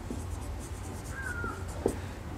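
Pen or marker writing out a chemistry reaction equation for ethene or propene with oxygen in an organic chemistry lesson, heard as faint scratchy strokes with a brief squeak and a sharper tap near the end over low background hum.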